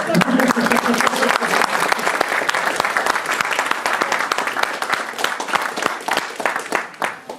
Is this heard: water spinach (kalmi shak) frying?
no